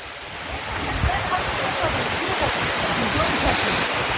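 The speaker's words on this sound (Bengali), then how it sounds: "আমরা চলে এসেছি বামনি ফলসের একদম সামনে। এই যে ওপর থেকে জলটা আসছে, এই ওপর থেকে জলটা পড়ছে।" Bamni Falls in the Ajodhya Hills pours down from above in a loud, constant roar of falling water, close by and steady throughout, with occasional wind buffeting the microphone.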